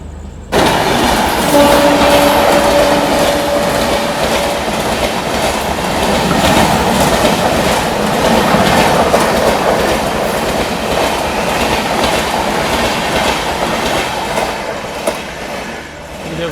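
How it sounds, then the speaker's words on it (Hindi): A Haridwar–LTT Mumbai AC Express passes close alongside on the neighbouring track near Sahibabad, a loud, steady rush of wheels and clattering coaches lasting throughout, with a brief tonal squeal early on. "ये बगल से क्रॉस हो रही है Haridwar LTT Mumbai AC express"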